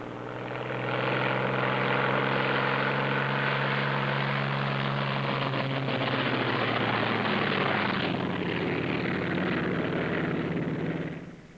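A Thunderbolt aircraft taxiing out, its engine a loud, sustained droning roar with a steady harmonic hum that holds throughout, then eases off slightly toward the end.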